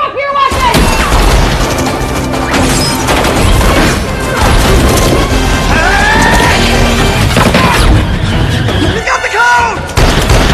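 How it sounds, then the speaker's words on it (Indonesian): A film scene shootout brings loud, dense bursts of gunfire mixed with crashes, booms and thuds. Shouting voices and music-like tones sit close under the continuous barrage. "baku tembak pun terjadi dengan serunya"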